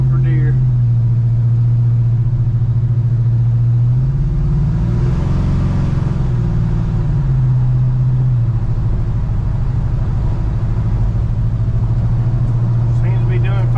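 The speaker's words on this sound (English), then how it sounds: "I hate test driving this truck at night" Truck engine droning steadily while driving on a road at night during a test drive after an MSD Pro Billet distributor install, a loud constant hum with a rise in revs midway.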